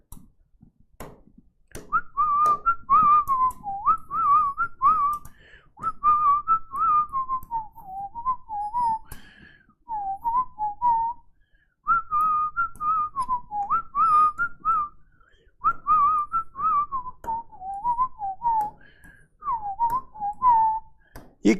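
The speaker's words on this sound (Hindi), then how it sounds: "सीटी बजा रहा हूं।" A person whistles a repeated melodic tune in short phrases with pauses between them, clear and fairly close, alone in a quiet room with occasional faint clicks.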